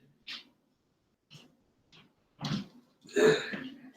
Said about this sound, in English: I gotta blow my nose real quick.